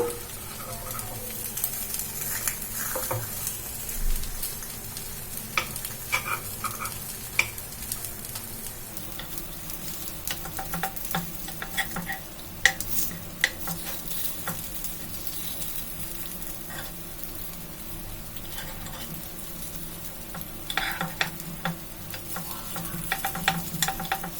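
Semolina breakfast dish cooking in a covered pan over a medium flame, with a steady low sizzle and occasional stirring scrapes and small clicks running continuously at moderate volume, no talking.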